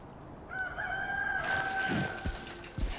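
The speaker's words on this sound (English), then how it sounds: "we got fucking roosters and shit out here?" A rooster crows in the Death Stranding 2 game world, one long rising and falling cock-a-doodle-doo stretching through most of the moment, fairly clear over a low ambient rumble with a few soft thuds near the end.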